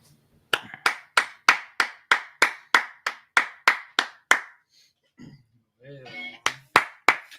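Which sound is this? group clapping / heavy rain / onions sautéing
group clapping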